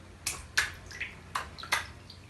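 Four quick splashes of frogs leaping into a river, spaced irregularly over a couple of seconds, each a short bright burst of water against quiet surroundings.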